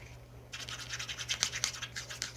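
Close, scratchy stirring and scraping from mixing homemade DIY makeup highlighter and eyeshadow, a quiet start followed by a steady run of brisk strokes with no talking.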